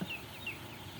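Broiler chickens in a closed-house poultry barn, slightly overheated, give a couple of faint, brief clucks and chirps over a low, steady barn hum, with no talking.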